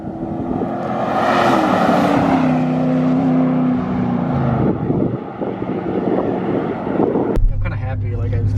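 Ram 1500 Hemi V8 fitted with a Flowmaster American Thunder cat-back exhaust cruising, a steady low rumble with wind buffeting the microphone and people talking over it, ending in a sudden sharp change.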